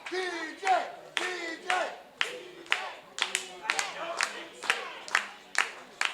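A wrestling crowd at a live pro show claps in steady rhythmic bursts and cheers, urging a downed wrestler back up, with sharp repeated claps rising over a dense roar of voices.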